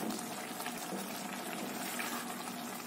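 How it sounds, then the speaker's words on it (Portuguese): Water boiling off in a pot of cooking rice, a soft continuous bubbling and sizzling hiss, faint and close, with no talk. "A água já está secando, vou deixar dar mais uma secadinha na água."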